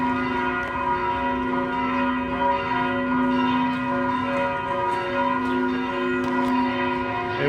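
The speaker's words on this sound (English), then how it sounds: "Got the church bells going off." Church bells ringing near Parque Jocotenego, clear sustained metallic tones layered and overlapping with repeated strikes, moderately close and continuous over a faint outdoor ambience.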